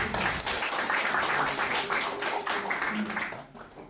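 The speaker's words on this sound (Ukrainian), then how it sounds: "оплески для вас" An audience applauds steadily in an indoor room, dense clapping that holds for several seconds before tapering off at the end, with faint voices mixed in.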